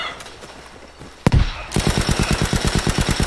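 Sustained automatic gunfire in the Battlefield V multiplayer shooter, a single loud shot followed by a rapid, steady burst of repeated near rounds, alone with no talk.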